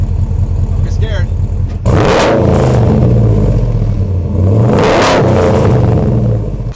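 A truck engine revved twice from idle, each blip a deep rising roar that swells and falls back, heard up close and loud over a low rumbling idle.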